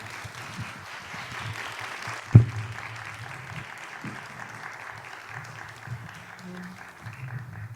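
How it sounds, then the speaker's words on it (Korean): Church congregation applauds softly to welcome two pastors to the front, a modest scattered clapping with one sharp close thump, under faint background sound. "환영의 박수로 함께 맞이해 주시기 바랍니다."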